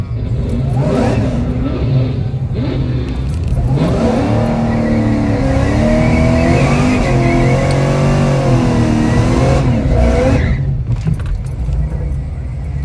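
A race truck launches at a drag strip for outlaw grudge racing, its engine roaring loud and close as it revs and accelerates through rising gear tones, settling back to a rumble near the end.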